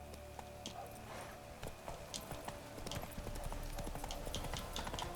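A horse gallops in a video game, its hooves making a quick, rhythmic clip-clop under a steady ambient bed, close and moderately loud.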